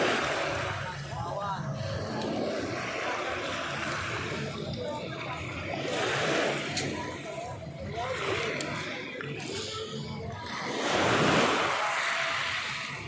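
Waves wash up onto a beach in rolling surges, with wind noise and faint voices in the background.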